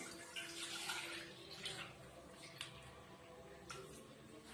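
Water is poured into milk in a pot for payasam, a faint, continuous splashing pour heard close but quietly throughout.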